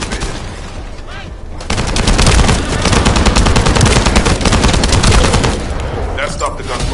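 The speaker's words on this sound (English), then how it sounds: "That stopped the gunfire." Sustained automatic gunfire from The First Descendant on the Kingston map: loud, rapid bursts of shots that grow heavier after a short lull and continue almost unbroken, with faint game chatter underneath.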